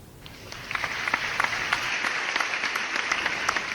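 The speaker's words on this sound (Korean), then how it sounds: "힘찬 박수 부탁드리겠습니다" Steady applause from a sizeable crowd of delegates at a labour union national convention, dense clapping with a few sharper claps standing out, continuing throughout without speech.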